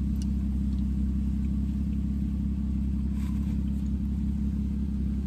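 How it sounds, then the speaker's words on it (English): A parked car's engine idles nearby with a deep, steady rumble like a pickup truck, droning evenly without change for about five seconds and with no talk. "And he gonna sit here with the car crunk too. Sound like a goddamn pickup truck."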